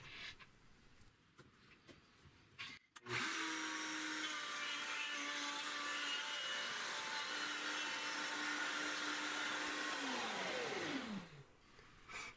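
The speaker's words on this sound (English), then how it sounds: "And now we'll cut our first tenon." A PantoRouter cuts a tenon in wood, a loud steady router whine that starts abruptly, holds with a sustained tone, then winds down as the motor spins off.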